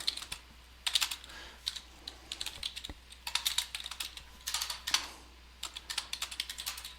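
Quiet typing on a computer keyboard while filling in SharePoint group fields, with irregular bursts of rapid key clicks separated by short pauses.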